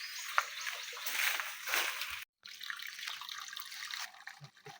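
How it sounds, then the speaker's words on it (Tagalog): Water trickling and dripping in a small stone well beside a creek in the province, a faint splashing flow with scattered drips and a brief dropout, heard close and quiet. "Yung tubig dito sa balon-balon na ito."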